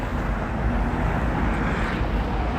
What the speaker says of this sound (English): Airship going over us.